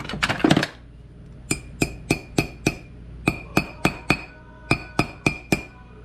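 A small hammer taps race car bearings into place in a quiet workshop, with a brief scraping clatter at the start and then about fifteen sharp, ringing metallic taps struck in steady groups, close and clear.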